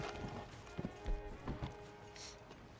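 In Red Dead Redemption 2, a horse's hooves clop in an uneven series of soft thuds. Faint game ambience and a quiet background tone run beneath them.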